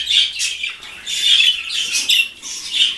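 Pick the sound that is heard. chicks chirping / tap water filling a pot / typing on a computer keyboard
chicks chirping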